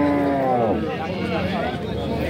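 A cow lows once, long and loud, at a livestock market in Mastchoh, the drawn-out moo fading into crowd chatter and voices talking nearby.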